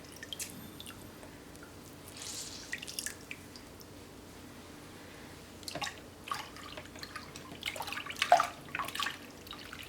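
Water drips and trickles from wrung-out raw hair extensions, a soft irregular patter near the sink that grows busier and wetter toward the end.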